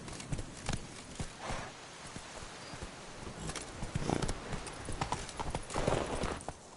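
Roach the horse walks along in The Witcher 3, hooves clip-clopping in an uneven, unhurried rhythm at close range, with a brief word spoken over it.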